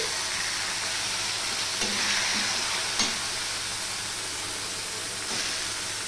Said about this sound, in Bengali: এবারে যে ভাপিয়ে বা সিদ্ধ করে রাখা শাকটা আমি দিয়ে দেবো